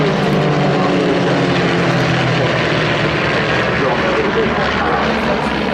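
A propeller-driven RV light aircraft of all-aluminium construction, with a 180 horsepower Lycoming IO-360 engine, flies past at an air show, its steady loud engine drone continuous throughout.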